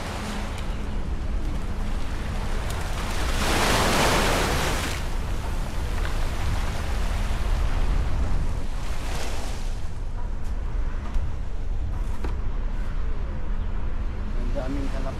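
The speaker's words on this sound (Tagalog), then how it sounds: "Dagat." Sea waves wash along the Jeddah Corniche waterfront in Saudi Arabia, a continuous rushing surf with wind buffeting the microphone and one louder surge early on, while a voice speaks briefly nearby.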